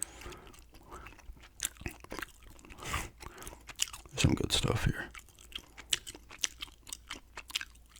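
Gum is chewed close to the microphone in ASMR style, with wet, crackly smacks and clicks in an irregular rhythm, and a voice speaks softly in between.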